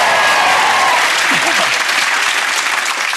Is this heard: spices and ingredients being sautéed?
no